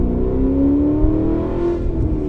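A modified 550 WHP Camaro ZL1 from Chuck's Tuning accelerating, a loud close engine drone rising steadily in pitch as it pulls, with no talk.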